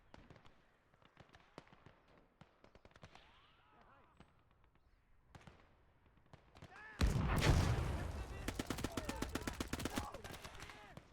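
Loud burst of rapid gunfire erupts after several seconds of quieter distant shots and in-game voices, from a World War II battle in the multiplayer video game Gates of Hell, with sniper rifle fire among the shooting.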